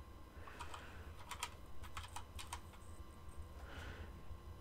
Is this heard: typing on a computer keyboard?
yes